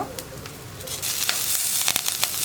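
Ginger frying in hot oil with small-cut shallots and curry leaves for a Kerala sadya puli inji, a loud close sizzle that swells and crackles as the pan is stirred.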